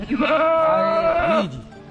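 Goats bleat loudly at a livestock market, one long wavering close call followed by a shorter falling bleat, with a little crowd noise behind.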